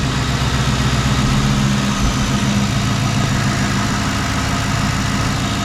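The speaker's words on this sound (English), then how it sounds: "So this is probably one of the smoothest running engines I've ever owned" Twin-turbo Ford Crown Victoria P71 engine idling up close, a steady, smooth low rumble that holds evenly throughout with no revving.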